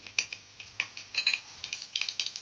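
Mustard seeds and cumin crackle in hot oil, giving a quiet scatter of sharp, dry pops at irregular intervals that cluster more thickly toward the end, with no speech.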